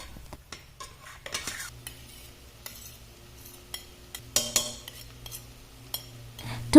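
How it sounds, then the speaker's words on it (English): Chopped garlic and methi leaves sauté in a pan, stirred now and then with a utensil that scrapes and clinks softly over a low, steady sizzle. "I keep giving it a stir occasionally until the leaves are cooked."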